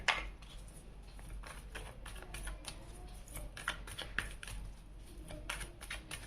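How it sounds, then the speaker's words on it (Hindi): Tarot cards being shuffled by hand, a quiet run of soft riffling flicks and slaps in an irregular rhythm, close up and faint, with no talking. "अभी मुझे कार्ड शफल करना है"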